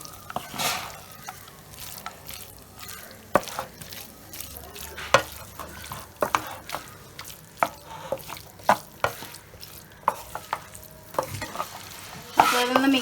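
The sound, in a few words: stirring and mixing boiled beef in a frying pan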